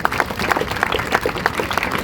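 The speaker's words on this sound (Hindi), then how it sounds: "जोरदार तालियां." Scattered hand clapping from a small audience at a sub-junior basketball championship ground, with individual claps audible in an uneven rhythm, fairly close and moderately loud.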